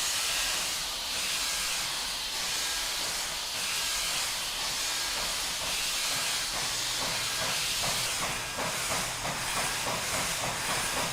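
A Frisco 1500 steam locomotive hisses loudly and continuously, with rhythmic chuffs pulsing faintly beneath the steam, heard up close at trackside with no voices.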